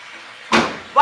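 A car's right-side door shuts with a solid slam, followed by a second sharp knock at the end, loud and close in a short burst.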